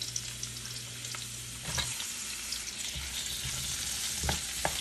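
Garlic and onion sautéing in a pan, a steady close sizzle and crackle with occasional scraping and stirring clicks, no talking over it.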